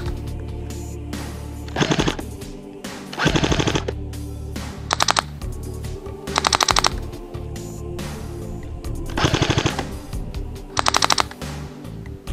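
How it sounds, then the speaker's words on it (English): Airsoft BBs strike a carpet-style EVA foam target in rapid full-auto bursts, each a dense rattling volley of impacts, repeated several times over a steady background hum. "let's enjoy me getting ricocheted to death by a bunch of airsoft BBs"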